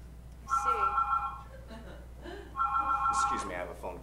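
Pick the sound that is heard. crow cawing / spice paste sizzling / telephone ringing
telephone ringing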